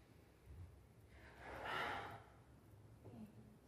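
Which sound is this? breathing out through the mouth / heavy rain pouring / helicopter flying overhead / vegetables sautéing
breathing out through the mouth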